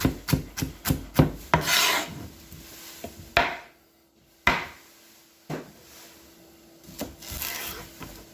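A knife cuts chicken for chicken Marsala into small slices, starting with a quick run of close, crisp strokes against a board, then slowing to scattered single cuts with pauses between.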